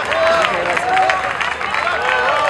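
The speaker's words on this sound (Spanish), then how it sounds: "Bien fuerte el aplauso para decirle gracias por su actuación" A crowd at the Mataderos fair applauds artisans in a steady wash of clapping, loud and close, with an announcer's voice running over it.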